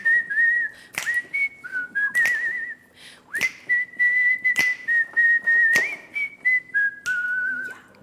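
Someone whistles a Christmas tune, cheerful and festive, clear and close, in short phrases separated by breaths and small clicks.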